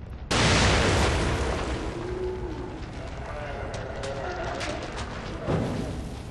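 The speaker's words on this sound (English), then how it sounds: "I think these guys deserve a little grenade." Grenade blast in The Evil Within video game, a sudden loud boom that rolls into a long rumbling, crackling tail with a second smaller burst near the end.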